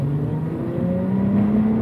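A 2005 Acura TL engine idling and revving, a steady close mechanical hum with slowly sliding engine tones that dip and then rise a little, heard alone without talk.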